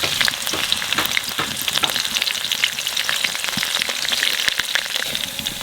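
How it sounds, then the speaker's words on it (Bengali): Nigella seeds and green chillies fry in hot mustard oil in a home kitchen, a loud, close, continuous crackling sizzle with scattered pops and no talk over it. "সরষের তেল, তেলের উপর দিয়ে দেবো কটা কালো জিরে, কটা কাঁচা লঙ্কা দেবো"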